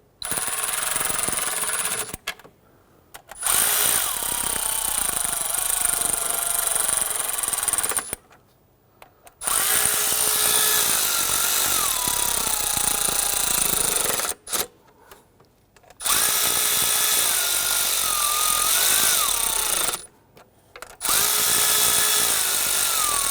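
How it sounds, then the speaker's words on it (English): Power tool gently running down ignition coil bolts on a 2011-2017 Nissan Quest 3.5L V6, several loud whirring bursts separated by short pauses, with a rising and falling motor pitch. "Now I am going to use a power tool to gently run them down"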